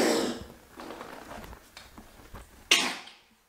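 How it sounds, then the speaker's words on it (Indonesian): A few raspy coughs from an animal, a harsh burst at the start, softer hacks in the middle, then one sharp cough before trailing off. "Olaf, kamu lagi batuk ya?"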